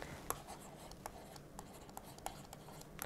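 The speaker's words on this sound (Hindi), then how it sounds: "मैं इसको अलग रंग से लिखता हूँ" A pen or marker writes on a board during a Hindi-language Indian polity lecture, giving faint, scratchy strokes with a few sharper taps.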